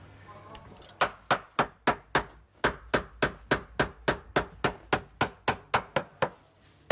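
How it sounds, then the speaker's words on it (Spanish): Nails hammered by hand into leather by a craftsman in Tunisia, a fast, steady run of about twenty sharp, close taps, each under half a second apart, with no talk over them. "Hay que tener cuidado al poner los clavos."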